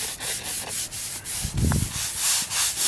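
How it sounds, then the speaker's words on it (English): A brush with a plastic scraper scrubs moss and loose debris off an old grave surface, a close, steady run of rough scraping strokes with a brief louder scuff midway. "brush it, get any of that loose stuff off of there"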